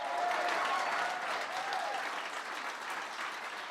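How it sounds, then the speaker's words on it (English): An audience at the Early Education Summit gives Elijah a big round of applause, a full, sustained crowd clapping that stays loud and steady, with a few faint whistles or cheers near the start. "Elijah a big round of applause."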